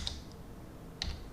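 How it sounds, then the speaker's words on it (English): Two short bursts of computer keyboard keystrokes, one near the start and one about a second later, quiet and close, with no talking while the numbers are typed. "Now we are going to type these numbers."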